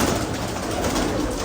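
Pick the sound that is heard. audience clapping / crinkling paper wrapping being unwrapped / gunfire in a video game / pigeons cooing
pigeons cooing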